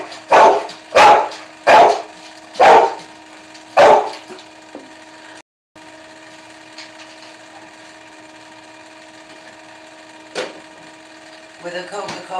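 A dog barks five times in quick succession close by, sharp and loud, followed by a long quiet stretch with only a faint later sound.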